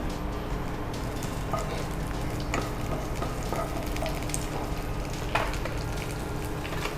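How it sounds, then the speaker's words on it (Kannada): Curry leaves frying in oil in a pan, a handful for a tempering: a steady, faint crackling sizzle with scattered small pops and light clinks throughout. "ಇದು ಚೆನ್ನಾಗಿ ಫ್ರೈ ಆಗಬೇಕು"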